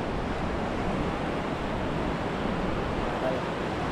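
Strong amihan wind blowing by the sea, a steady broadband rush of gusting air and surf with microphone buffeting, continuous and moderately loud.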